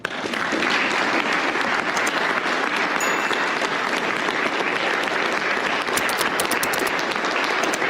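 A large crowd gives loud, sustained applause for Vice President Mike Pence's entrance, a dense wash of clapping that carries unbroken for several seconds.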